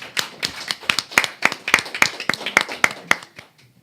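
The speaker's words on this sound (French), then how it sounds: "On peut applaudir Cathy et Marie." A small studio group at a student radio show claps to welcome two guests, a quick, slightly uneven patter of close, sharp handclaps that thins out and stops near the end.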